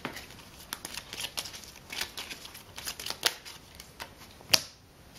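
Citadels game cards being shuffled, a close, steady run of papery riffling flicks and snaps over several seconds, ending with one sharper slap.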